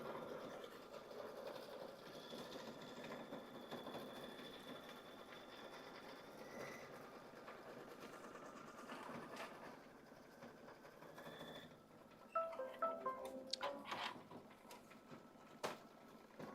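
A Kimberbell embroidery machine stitches background quilting through fabric and batting, giving a steady mechanical whir and rapid needle chatter, then sharper clicks and clacks toward the end; it plays close up with no voices.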